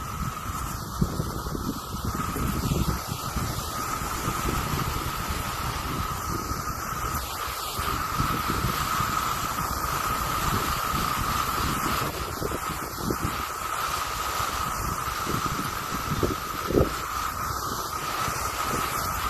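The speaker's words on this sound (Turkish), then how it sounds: "Hava rüzgarlı çünkü." Steady broadband wind noise rumbles continuously across the microphone in an apricot orchard in blossom, with faint higher chirps scattered throughout and no voices.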